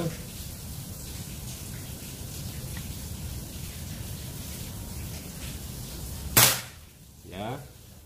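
One sharp crack from a Predator Monel Ataman folding PCP air rifle at 4000 psi, a sudden loud report after steady background hiss, followed by a brief fainter sound.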